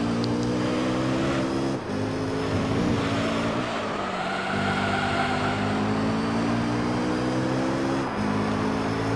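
Video game race car on Autumn Ring in Gran Turismo Concept, held in third gear: a loud, steady engine drone with rising and falling revs through the lap, a couple of brief dips around gear changes, no voices.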